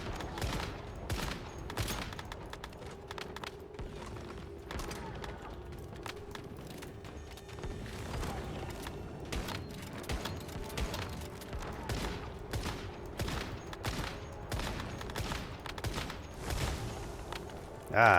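Boss missile barrage in the video game Zone of Haze: rapid bursts of explosive blasts and gunfire-like cracks firing continuously, dense and loud with game sound over a low hum.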